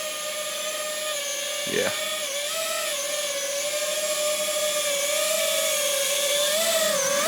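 A GEPRC Smart35 sub-250g FPV drone whines overhead with high, layered propeller tones that bend slightly as it maneuvers and comes in to land on a table, loud and close, with a brief spoken word partway through.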